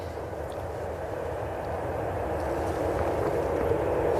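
A Ryanair airliner at Manchester Airport gives off a steady, distant engine roar that swells slightly and holds throughout, with no talking.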